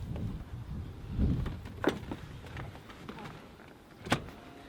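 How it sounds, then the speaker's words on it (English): A quiet power seat motor whirs inside an Infiniti G35 Coupe cabin as the seat moves, with a soft thump and a few sharp clicks along the way. Nobody speaks. "So the seat moves automatically, which is a nice touch"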